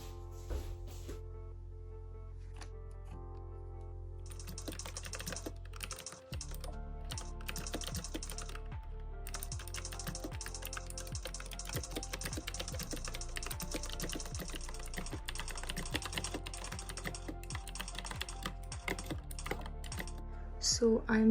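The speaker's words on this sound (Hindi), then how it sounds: "तो अभी मैं जाती हूँ, टाइपिंग करती हूँ" Steady, continuous typing on a computer keyboard late at night, a dense run of quick clicking keystrokes lasting about twenty seconds, close and fairly quiet with no voices.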